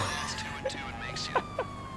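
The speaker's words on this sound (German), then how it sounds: "Ja, unsere Sirene ist irgendwie kaputt," A police car siren in GTA Online, apparently malfunctioning, gives a faint wavering wail beneath people talking.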